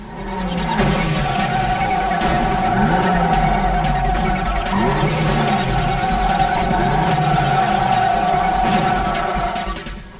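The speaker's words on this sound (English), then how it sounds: "The engine noises go from loud to non-existent, and the tire screeching effect sounds like it's been compressed" A Cruis'n (Wii) car engine drones continuously while tires screech in repeated sweeping squeals, loud and compressed-sounding, with no talk.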